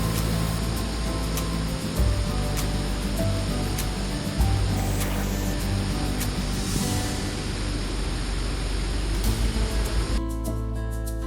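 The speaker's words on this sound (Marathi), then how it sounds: "घाटातून वर येताना हा लागलेला आम्हाला पहिलाच धबधबा बघू शकता तुम्ही, किती मोठा आणि एकदम सुंदर आहे." Rushing roar of a large monsoon waterfall in the ghats near Matheran, steady broadband noise heard fairly close, cutting off abruptly near the end.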